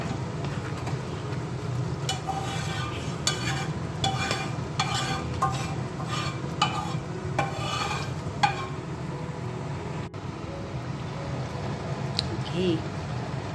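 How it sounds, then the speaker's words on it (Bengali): Spices tempering in hot oil for khichuri crackle and hiss in a home kitchen while a utensil stirs and scrapes in repeated bursts, with voices heard in the background. "ফোড়ন দেওয়া হয়ে গেল।"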